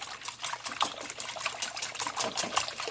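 Beaten eggs for a quiche filling are whisked briskly in a bowl, giving a wet, rapid sloshing and clicking with a steady rhythm, close and fairly quiet, with no speech.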